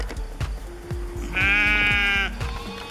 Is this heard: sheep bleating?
yes